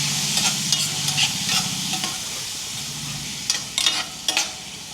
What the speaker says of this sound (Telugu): ఒకసారి కలిపేసుకొని మూత పెట్టేసుకుని మగ్గనిద్దాం